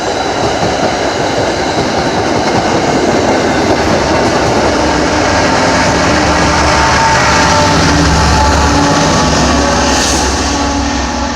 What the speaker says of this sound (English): so that was a commuter rail, by the way, Mbta